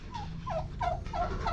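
A turkey gobbles in a quick, rippling series of about five warbling calls, close and clear over a low background rumble.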